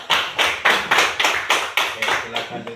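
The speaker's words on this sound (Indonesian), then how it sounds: "Ayo tepuk tangan besar juga." A classroom of students claps hands in a quick, even rhythm, about ten crisp, loud claps in under three seconds, with a voice talking faintly underneath toward the end.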